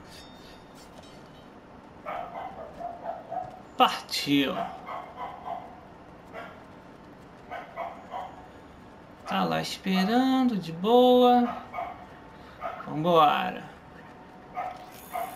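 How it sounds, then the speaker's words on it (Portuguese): A neighbour's dog barks and yelps repeatedly in bursts, with some drawn-out whining howls, a short way off in the background while someone talks over it. "O cachorro não para de latir."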